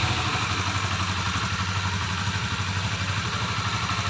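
A Honda CB motorcycle engine idles close by with a steady, even mechanical rumble and light clatter, constant throughout with no talk.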